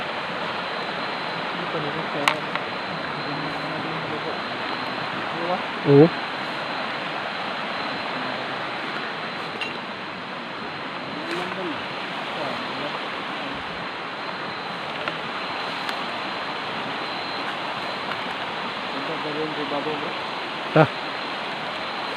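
Strong river water rushes in a steady broadband roar that fills the whole scene, with brief voices and a few short knocks over it.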